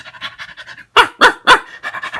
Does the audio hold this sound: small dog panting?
yes